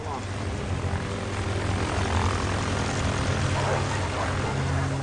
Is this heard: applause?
no